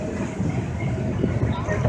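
A San Francisco Muni heritage boat tram car, one of the open Blackpool-built cars at the 2018 Muni Heritage Weekend, rolls along rails with a steady low rumble and rattle, with faint voices in the background.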